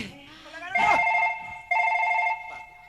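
An electronic telephone ring sounds in two clear bursts inside a village home, loud and close. The first burst overlaps faint voices.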